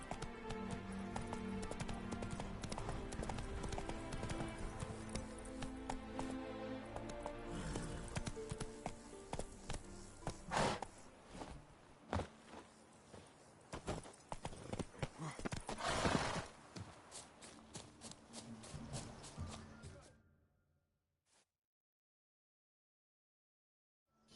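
Hooves of Roach, the horse in The Witcher 3, clip-clopping in a steady walking rhythm against a background of music, with a few sharper knocks near the end before the sound cuts to silence.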